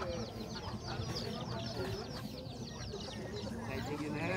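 Several chickens cluck steadily at close range at a poultry market in Camocim de São Félix, Brazil, with a faint murmur of voices and market bustle underneath.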